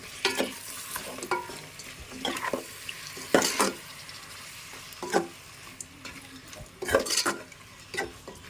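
Chicken and drumstick curry with tomatoes stirred in a pan, a constant sizzle broken by repeated scraping strokes of a spoon against the metal at an irregular rhythm.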